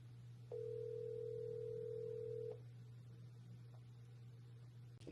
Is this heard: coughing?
no